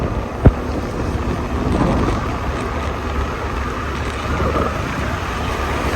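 Steady rain with a rumbling thunderstorm backdrop and one sharp crack near the start, continuous and fairly distant, with no talking.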